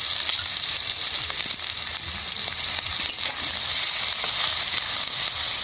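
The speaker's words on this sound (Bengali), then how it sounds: "ফোড়ন করবো, ওখানে পেঁয়াজ দিয়ে দেবো" Spices and onion sizzle loudly and steadily in hot oil for a fish curry, a dense, continuous hiss held close throughout.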